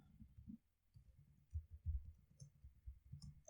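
A jammy computer keyboard is typed on in a run of soft, irregular low clicks and thumps, faint and close, with no talking.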